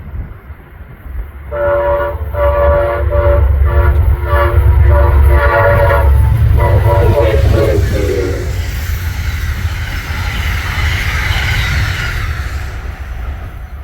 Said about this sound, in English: the first Pennsylvanian appeared with a horn-happy engineer.